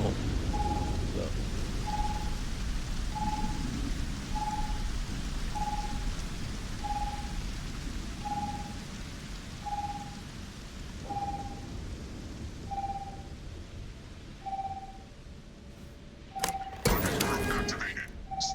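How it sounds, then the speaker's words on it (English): Steady rain with a distant thunder rumble in the video game Starfield, under a string of evenly spaced electronic beeps that ends in a loud crackling burst near the end. "Thunderstorm activated. Stand clear."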